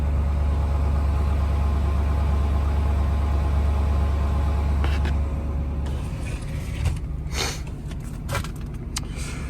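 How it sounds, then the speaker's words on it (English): Gas pickup truck engine idling steadily up close with a faint exhaust leak ticking, a continuous low rumble that eases slightly partway through while a few brief knocks and rustles sound nearby. "You can definitely hear that exhaust leak a little bit."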